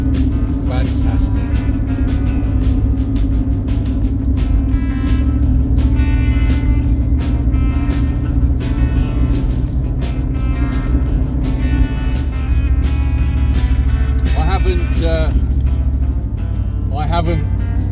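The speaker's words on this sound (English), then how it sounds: "Driving a big old New Yorker." A big old Chrysler New Yorker cruising along, its engine a steady low drone with road rumble throughout, occasional shifts in tone and a voice talking over it inside the cabin.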